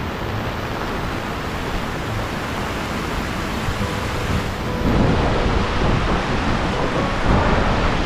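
Bendewadi waterfall rushes as a dense, steady roar of falling water close by, swelling slightly louder midway and continuing without talk.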